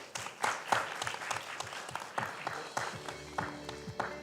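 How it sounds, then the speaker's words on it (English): A small audience at a corporate hackathon finale claps; the applause is fairly sparse and uneven, with individual hand claps audible, moderately close and lasting a few seconds. "may I also request for a special round of applause for Bhavna"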